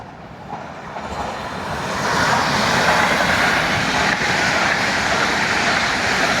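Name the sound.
PESA Dart passenger train passing through station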